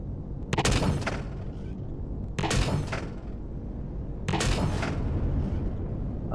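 Three loud gunshots ring out in Empyrion Galactic Survival, evenly spaced about two seconds apart, each with a short echoing tail over a steady rumbling background.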